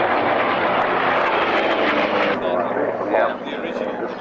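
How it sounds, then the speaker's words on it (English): Engine roar of a Corsair fighter, a vintage propeller warplane, flying at the Duxford Flying Legends airshow, a loud continuous drone that shifts partway through, with a commentator's voice talking over it. "This Corsair here, the old flying machine company Corsair, is the only true Kiwi Corsair left in the world flying."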